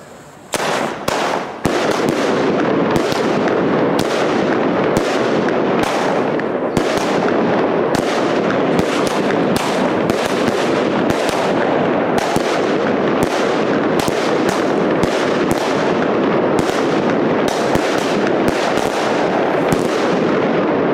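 Dense, relentless crackling and popping of fireworks in Valencia, Spain, bursting in rapid succession for the whole stretch, loud and close with no pause.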